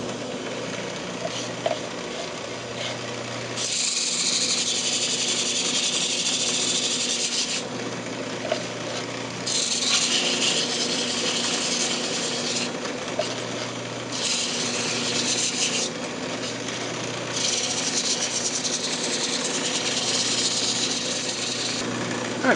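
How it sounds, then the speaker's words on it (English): A turned wooden hot plate frame has its edge sanded on the lathe in several steady, rasping passes of a few seconds each, over a constant motor hum with short pauses between. "So I'm just going to sand up the edge right here."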